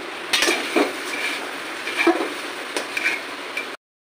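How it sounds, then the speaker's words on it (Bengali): Spiced, marinated chicken tossed with potatoes in a pan for a biryani, giving a steady low sizzle with scattered clinks and scrapes of a utensil against the pan, close and without talk. "আর এই যে চিকেনগুলো মশলা মাখিয়ে রেখেছি, সেই চিকেনগুলো আমি দিয়ে দেবো। আবার ভালো করে আমি কষিয়ে দেবো।"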